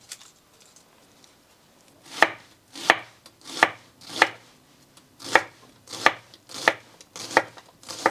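A knife slices shallots on a cutting board in a steady series of about ten sharp chopping strokes, each crisp and close, following a quiet start.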